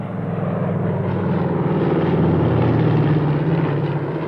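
Consolidated PBY Catalina flying boat passing overhead at an airshow flypast at RAF Finningley, a steady loud droning propeller engine roar that swells slightly as it nears, with no voices.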